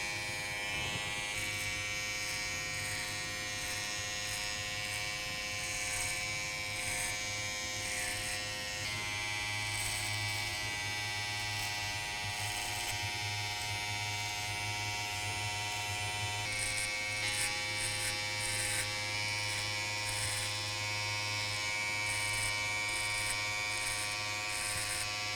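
An electric shaver buzzes steadily and close throughout, cleaning up the back of a burst fade haircut at a barbershop, its hum holding constant with slight shifts in pitch as it moves over the hair.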